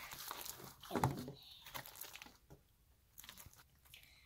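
Crunchy, crackling squishes of homemade melted-crayon slime being kneaded by hand, in irregular bursts with quiet pauses between.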